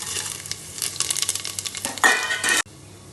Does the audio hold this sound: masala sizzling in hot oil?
yes